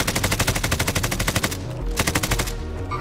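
Rapid automatic gunfire in the Call of Duty video game hits the player, a dense, loud burst of closely spaced shots that stops briefly, then resumes in another rapid burst, with no voices.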